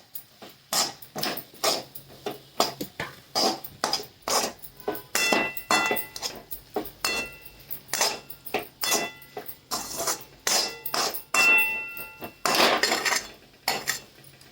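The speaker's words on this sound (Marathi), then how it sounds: "आता चांगलं परतून घ्यायचे एकजीव करून घ्यायचा कांदा टोमॅटो आणि मसाले सर्व" Onion, tomato and spices for dal kanda being stirred in a pan, heard as repeated close metal clinks and scrapes of a spoon against the pan in an uneven rhythm, with no talking.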